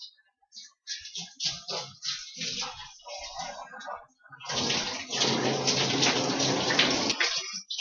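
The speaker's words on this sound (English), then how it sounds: "This is simply what I do in the shower with the sponge." A shower runs while a man washes with a block sponge, with intermittent wet scrubbing and splashing at first, then a steady, louder spray of water near the end.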